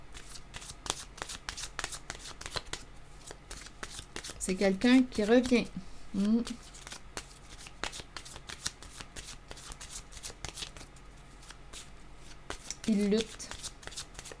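Tarot cards shuffled by hand, a soft continuous riffling and flicking close up, with someone speaking French over part of it.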